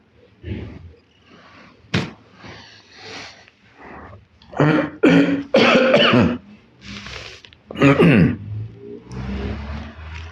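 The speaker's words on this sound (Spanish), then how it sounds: "Perdón por esta tos que yo sé es un poquito desagradable." Repeated coughing fits close to the microphone, harsh bursts spread over several seconds with some throat clearing and wheezy breaths between.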